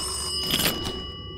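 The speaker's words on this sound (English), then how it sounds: "Phone can go off." A phone rings in the KAMLA horror video game: a short, bright electronic ring with steady tones, heard alone at moderate level with no talking.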